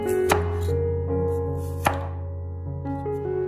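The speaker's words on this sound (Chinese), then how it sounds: "先用刀切去它的头尾" A knife chops the ends off a small squash on a cutting board, two crisp distinct cuts over a steady background hum, close and clear with no talking.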